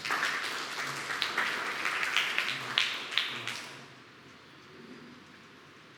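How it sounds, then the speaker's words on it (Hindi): Church congregation at a Sunday evening Hindi service clapping together, a dense, fairly loud spatter of hand claps with scattered sharper peaks that fades out after about four seconds into quiet room tone. "क्यों ना इस संदेश के लिए ताली बजाते जोरदार।"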